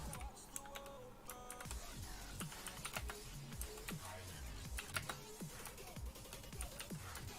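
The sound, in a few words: typing on computer keyboard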